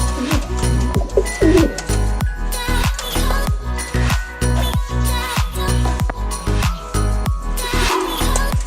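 Racing pigeons cooing at their loft after a sprint race arrival, repeated soft rhythmic coos close by over a steady background of other birds and faint tinkling.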